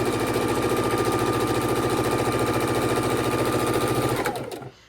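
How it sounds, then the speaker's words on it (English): A sewing machine stitches quilt borders through four layers of fabric, running as a loud, steady rapid chatter close by for about four seconds before slowing and stopping. "we're sewing our borders together"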